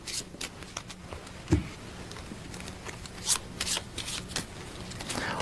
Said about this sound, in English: Each half can be shuffled by itself.